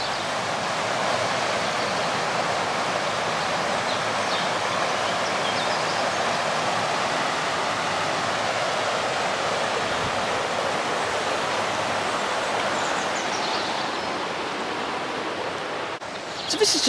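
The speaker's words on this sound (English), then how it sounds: "the River Kenwyn flows through Truro, and this is part of it." River Kenwyn flowing through Victoria Gardens in Truro, a steady rushing wash of water that stays even and continuous for the whole stretch, with a brief knock near the end.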